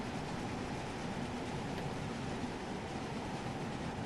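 A train hauled by two steam locomotives runs at speed on a Jubilee steam tour to Europe, heard as a faint, steady rolling rumble without pauses.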